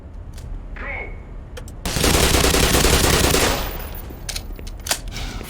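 A hard-recoiling gun firing in Black Mesa, a dense burst of loud rapid shots lasting under two seconds, followed by scattered sharper reports, with a voice heard briefly before the burst.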